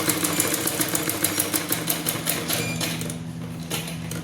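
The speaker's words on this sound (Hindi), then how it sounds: "और फिर इससे इस तरीके से सिलाई लगाना है" A sewing machine stitches a blouse in a rapid, even, rattling rhythm close by, then slows and stops near the end.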